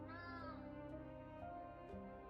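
A cat meows in a video game, a long drawn-out cry that falls in pitch, then quieter follow-up mews with faint clicks, heard alone without talk.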